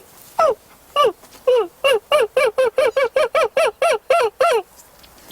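A person imitates a screech owl call, a rapid series of about fourteen short, whinnying hoots that speed up into an even bouncing rhythm, each note sliding downward. The calls are loud, close and alone.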